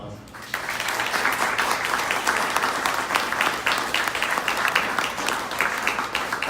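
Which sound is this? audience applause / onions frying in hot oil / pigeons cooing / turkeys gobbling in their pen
audience applause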